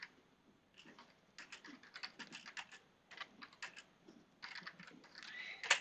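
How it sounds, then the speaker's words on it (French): Computer keyboard typing into Microsoft Word, quiet and close, with quick clusters of key clicks broken by short pauses and a final sharper tap. "si je commence à taper"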